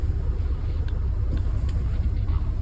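A loud, steady low engine rumble from a truck pulling against its brakes during a CDL tug test, heard close from inside the cab, with no voices.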